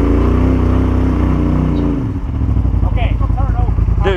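Off-road vehicle climbing rocks at Windrock, its engine holding a loud rev, then dropping sharply and settling into a lumpy idle, with squeaks and clatter over the rocks and voices nearby.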